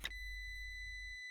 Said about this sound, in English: There you can hear ignition come on.